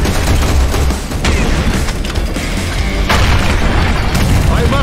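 Heavy gunfire and explosions in Serious Sam 4, a loud dense stream of booming blasts and rapid shots with a voice briefly shouting over the din.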